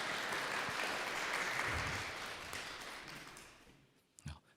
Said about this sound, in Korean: 저희가 박수로 환영하고 축복하면 좋을 것 같습니다